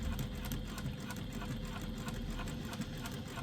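A sewing machine runs steadily, topstitching a fabric bag strap for a retro clutch, with a constant low motor hum and a fast, even stitching rhythm held throughout at moderate volume.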